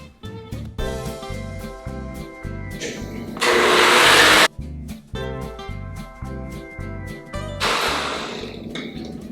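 A blender whirs in two loud bursts, about one second each, blending a cheese filling of gorgonzola for agnolotti in a home kitchen. Music plays throughout, with short gaps between the bursts.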